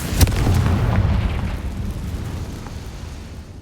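Confringo blasting spell in the video game Hogwarts Legacy, a single loud explosive boom that bursts at once and then rumbles and fades over a few seconds, with no talking.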